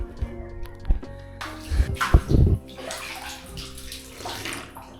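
Water scooped by hand from a fort cistern and drunk, with close splashes, sloshing and gurgles in uneven bursts and quiet pauses between them.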